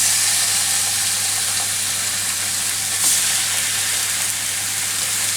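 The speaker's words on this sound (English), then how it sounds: "I think these are pretty hot. I can feel the heat on the pans. I'm putting these in now." Steaks sizzling loudly in a hot pan on a stove ring, a dense continuous hiss and crackle with a faint steady hum underneath and no talking.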